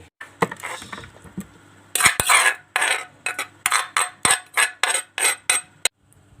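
Papaya salad being scooped from a mortar onto a plate: a rhythmic series of about a dozen sharp scrapes and clinks of a spoon against the mortar and dish, close and distinct, with short gaps between strokes.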